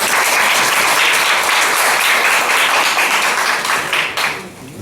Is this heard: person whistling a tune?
no